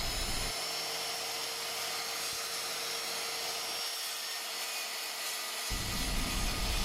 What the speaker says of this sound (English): We're going to cut a 6-inch wide replacement piece out of this pressure-treated plywood.